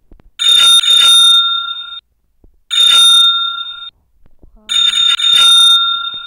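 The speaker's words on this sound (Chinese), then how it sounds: "这个铃铛好玩" A small bell, like a bicycle bell, rings loud and close in three bursts of rapid ringing, each lasting over a second, separated by short near-silent gaps.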